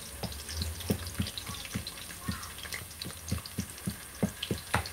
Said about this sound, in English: So you see how the onions is being cooked